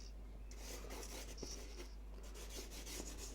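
Charcoal is rubbed into paper while a landscape drawing is blended, making a soft, faint, continuous scratchy friction with a few light taps, quiet and close, with no talking.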